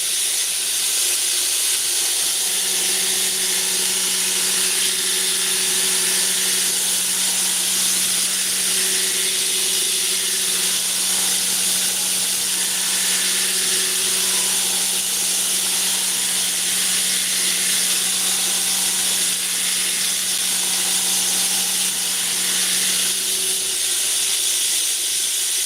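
Hardened knife blade steel around 64.5 HRC being ground, a loud continuous hissing grind with a sustained tonal whine that runs almost unbroken throughout.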